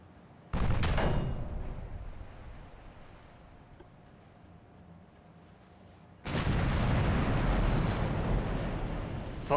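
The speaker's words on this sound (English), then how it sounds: "Finally, a shot to the rear." Two heavy naval gun blasts from the Ultimate Admiral: Dreadnoughts game, playing the USS Monitor: a sharp loud boom early on, then a second sustained roaring blast later, with a wash of ocean and wind between them.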